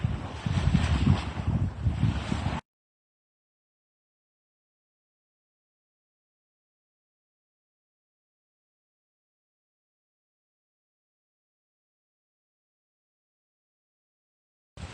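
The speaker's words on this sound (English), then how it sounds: "it's just blowing a gale" Strong gale-force wind buffets the microphone on a lake beach at Le Domaine in La Vérendrye park, Quebec, as a loud, rough roar lasting a few seconds before cutting to silence.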